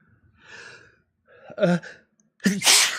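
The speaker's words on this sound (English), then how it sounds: "Yay, I sneezed." A sharp sneeze bursts out near the end, preceded by a couple of quick breathy intakes, close and loud with brief silences between.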